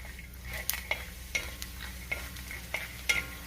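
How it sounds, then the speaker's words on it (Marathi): Peanuts frying in hot oil in a pan give a steady low sizzle, and a spoon stirring them adds occasional sharp clicks. The sound is close but fairly quiet, with no voices. "हे शेंगदाणे तेलावरती आपल्याला चांगले परतून घ्यायचे, म्हणजे तळून घ्यायचे"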